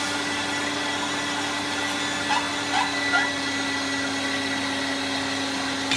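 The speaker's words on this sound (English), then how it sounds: "we're going to switch on our grinder so that we can grind our potatoes and the rice" An electric grinder runs steadily, grinding rice and potatoes for khoba meat, with a constant motor hum throughout and a few faint clatters as the ingredients drop in.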